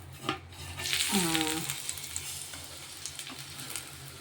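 Palmyra fruit roti frying in hot oil on a pan, a steady close sizzle that swells briefly as the flatbread is flipped, with scraping stir noises and a low hum underneath.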